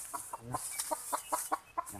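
A decoy jungle fowl rooster clucks in a quick run of short, close calls spaced about a quarter second apart, heard alone outdoors.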